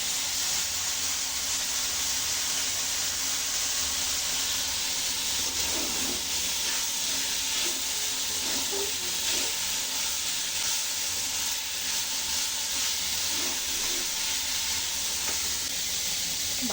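Spicy vegetable bhaji frying in a home kitchen, with a constant bright sizzle and hiss going on without a break, fairly faint and steady and with no talk over it.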